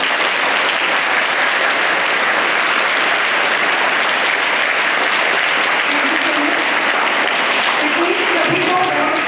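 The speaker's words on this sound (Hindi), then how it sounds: "जिसको जितना अच्छा लगा उतनी जोर से ताली बजा दें" A school audience at a Hanuman Janmotsav programme bursts into loud, sustained applause, many hands clapping densely and continuously throughout, with a voice briefly speaking near the end.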